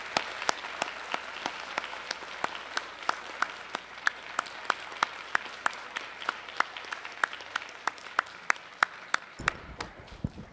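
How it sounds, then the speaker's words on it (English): An audience applauds after a talk, though the clapping is sparse and fairly quiet, with distinct individual claps ringing out in a loose rhythm over a soft wash of hands before it fades out near the end. "I think they deserve a robust round of applause."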